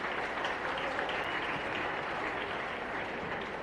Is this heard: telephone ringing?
no